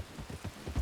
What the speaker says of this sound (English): The rain's fine, especially when you're going out walking.